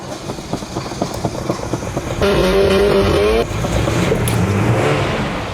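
An old carbureted car engine cold-starts, cranking and catching with a rough, uneven idle, then revs up briefly in a steady loud roar before settling back down.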